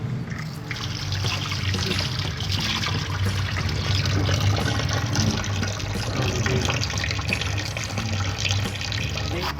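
Carrots washed under running tap water, a steady splashing stream with trickling and dribbling close by, continuous and even throughout.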